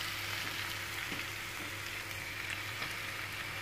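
Baby papaya being stir-fried in a pan sizzles steadily, with a continuous crackling hiss and faint scraping from stirring, close and alone without talk.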